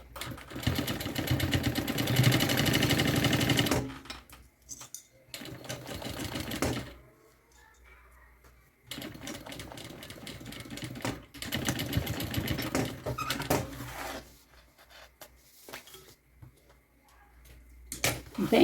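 A sewing machine stitches a seam holding a zipper, running in several bursts of fast, even clatter separated by pauses, fairly close and loud.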